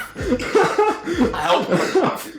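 Repeated rough coughing bursts in quick succession, close and loud, mixed with voiced sounds.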